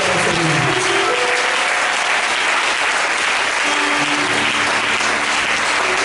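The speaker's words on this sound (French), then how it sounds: "Put your hand together for me." A church congregation applauding loudly, with sustained dense clapping filling the whole stretch alongside a faint murmur of voices.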